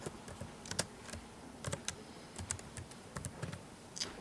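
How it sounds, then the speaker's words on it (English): Keys clicking on a computer keyboard as a name is typed, a quiet, fairly close series of uneven taps with short pauses; no voice. "I'm going to type in your name"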